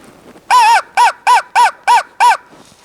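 A hand-blown reed crow call, blown hard to imitate crow cawing, gives six loud, harsh caws in a quick, evenly spaced series with nothing else around them.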